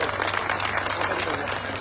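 A large outdoor crowd at an election rally in Kolayat, Bikaner, claps in dense, continuous applause. It sounds fairly loud and even throughout, over a steady low hum.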